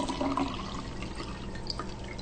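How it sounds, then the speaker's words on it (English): Water is poured into a glass, a soft splashing fill with a few drips, quiet and close, and no one talks over it. "And then I'm just gonna pour water on in it."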